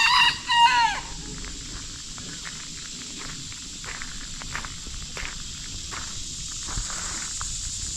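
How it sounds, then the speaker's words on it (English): A rooster crows loudly near the start, then distant chickens and faint footsteps carry on over steady outdoor ambience beside a house planted with native plants. "There's another chicken."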